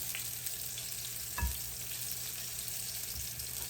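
Buttermilk-and-flour-coated pork chops fry in a pan with a steady, close crackling sizzle, one brief thud partway through, and no voices.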